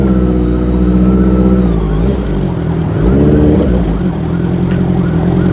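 Honda CBR650R motorcycle on a ride, its engine droning loud and steady with harmonic whine, pitch dipping and rising as the throttle shifts, heard close from the rider's position.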